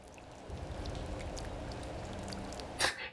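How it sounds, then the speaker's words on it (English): Steady rain falls in the video game OMORI, a dense continuous patter of drops with a brief louder splash near the end, no voices. "The sound of rain falling is really relaxing."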